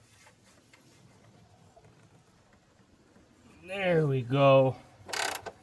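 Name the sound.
wrench ratcheting on a strut bolt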